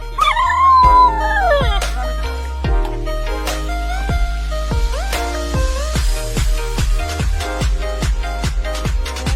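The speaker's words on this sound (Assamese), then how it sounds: "আমি যেনিয়ে গৈছোঁ কুকুৰবিলাক একদম গাড়ীখনৰ পিছে পিছে আহি আছে" Dogs howl and whimper in a rural town area, long wavering howls and yelps that rise and fall, with a broken series of short yips and cries close by and no talk.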